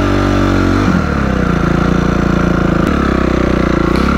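A scooter engine runs loud and close on a steep off-road climb, a steady buzzing drone that shifts in pitch twice as the throttle changes, with no voices.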